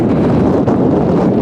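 Strong gusting wind buffets the microphone in a continuous loud rumble with no pause.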